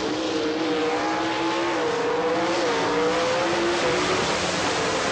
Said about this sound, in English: it looks like Shepard is nudged ahead as they come towards the finish